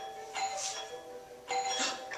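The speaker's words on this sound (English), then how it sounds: "Ring the doorbell a couple times." A doorbell chimes twice, a ding-dong tone repeated about a second apart over a low steady background hum.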